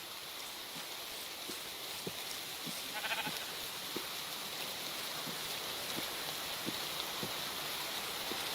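Sheep bleating in a farming video game, a few short calls over a steady patter of in-game rain, fairly faint and without talk.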